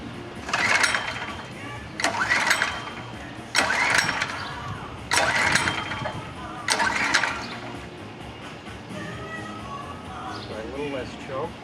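A Predator 3200/4000 generator is pull-started again and again, five sharp recoil pulls in a steady rhythm, each with a burst of engine sputter. The engine then catches and runs quietly, with a voice talking faintly underneath.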